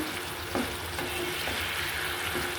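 Sliced pointed gourd (potol) fries in an oiled pan, a steady, even sizzle with a few soft scrapes of stirring, fairly close and moderately loud, no voices.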